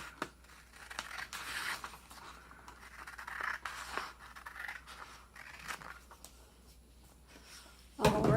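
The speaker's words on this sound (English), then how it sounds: "just use the scissors. You cut straight across there." Scissors snip straight across a creased sheet of paper for a pocket book craft, giving repeated faint cutting and scraping strokes that end with a louder rustle.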